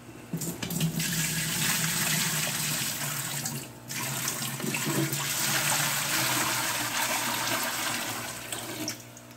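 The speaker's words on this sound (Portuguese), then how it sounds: "Agora a gente retorna a água para cá para não perder nada." Water pours steadily back into a guppy fish tank, a continuous loud rushing stream with a brief dip partway through before the flow resumes and slowly tapers off.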